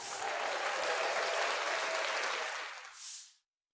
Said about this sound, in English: Adding sound effects like an applause.